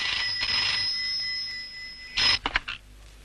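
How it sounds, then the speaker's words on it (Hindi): A telephone rings with a bright, shrill electronic trill that sustains for a couple of seconds before breaking into a few short bursts, fairly close. "ये उसी रॉकी का फोन है।"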